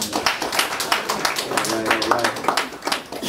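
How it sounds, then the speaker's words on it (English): An audience at a community health event gives a short round of applause for a co-host, uneven clapping from a modest crowd with voices talking over it throughout. "Can we get a round of applause for my co-host"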